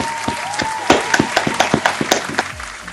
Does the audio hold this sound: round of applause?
yes